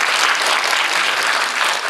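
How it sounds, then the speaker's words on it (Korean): An audience applauds after a keynote at a public forum on Korea's Government 3.0 in Bucheon, a dense, even wash of clapping that carries steadily through the whole moment. "박수 치시죠"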